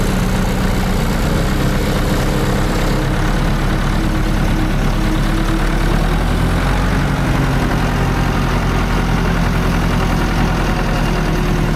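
A farm tractor engine idles nearby with a steady, loud low rumble and a faint knocking texture, running continuously without any change in pace.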